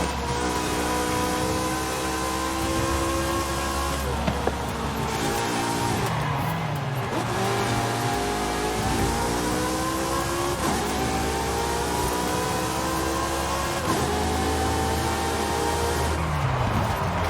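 Porsche 718 engine in Forza Horizon 5 revving loud and continuous, pitch climbing and dropping through repeated gear changes with brief dips between pulls, no voices.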